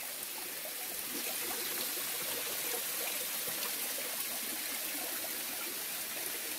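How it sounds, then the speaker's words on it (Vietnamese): A tall waterfall in a forest gives a steady, dense rush of falling water, constant and fairly close, with no voices. "chỗ trước mặt mình là một cái thác mọi người. Đây này. Thác cao lắm."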